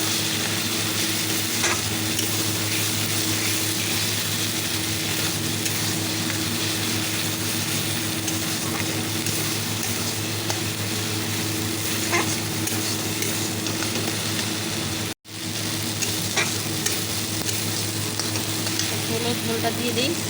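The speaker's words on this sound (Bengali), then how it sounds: "চলো মশলাটা কষানো হয়েই গেছে, একটু মাছ করে নিলাম।" Fish fries in a cooked spice paste, giving a loud, continuous sizzle and crackle with occasional stirring, steady throughout apart from one momentary break.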